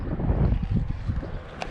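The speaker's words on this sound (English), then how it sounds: "It is a little windy." Wind gusts across a microphone outdoors on a lake during a fishing trip, a loud continuous rumbling buffet with no pauses, close and steady.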